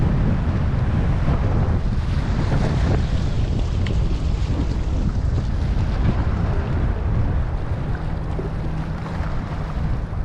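Strong wind roars steadily across the microphone on a muddy lakeshore while jigging for walleyes, a loud, constant low buffeting with no pauses and no speech.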